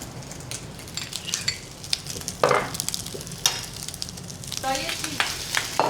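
Bacon frying in a pan with butter, a close, loud crackling sizzle with sharp pops and spatters throughout.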